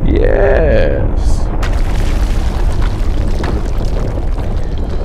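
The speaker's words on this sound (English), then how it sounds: "This is the part where we blow your bad boy up." Crystal portal blowing up in the video game Risen 3, a loud booming blast with a sweeping whoosh at the start, then a sustained dense rumble of debris and effects that stays loud throughout.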